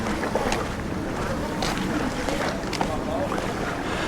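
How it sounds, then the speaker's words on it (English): Sea at Puerto Pollensa harbour at night, a low steady wash of water and wind noise with faint scattered clicks and murmurs, moderately quiet and continuous. "I just love to listen to the sea."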